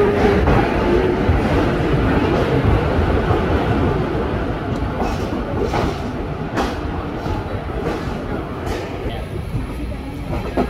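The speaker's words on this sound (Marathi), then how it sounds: "तर मित्रांनो आता आपली ट्रेन निघाले" A moving Konkan Railway train out of LTT, Mumbai, rumbling steadily with a dense broadband roar and faint clacks, heard from onboard with voices mixed into the continuous noise.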